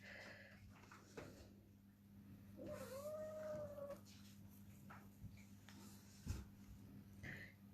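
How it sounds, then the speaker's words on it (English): Cats fighting and caterwauling in the background, with one drawn-out, wavering yowl rising and falling for about a second amid low room hum and scattered faint knocks. "Cats are having a fight."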